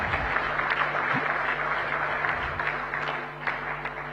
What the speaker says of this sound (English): give him a big, big round of applause to express our gratitude